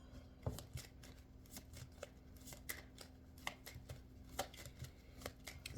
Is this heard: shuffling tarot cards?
yes